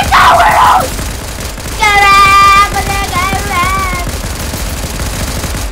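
Rapid gunfire from players shooting zombies in the Fortnite video game, a dense burst of shots near the start followed by continuing game noise, with a tonal warbling effect over the shooting and busy background sound.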